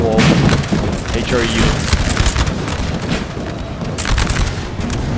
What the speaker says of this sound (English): the artillery is still coming in hard on these poor